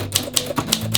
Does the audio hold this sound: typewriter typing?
yes